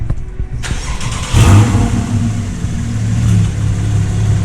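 Rear-wheel-drive Porsche 911 engine cranks and fires, then settles into a steady, close rumbling idle with a brief rev, alone without talk.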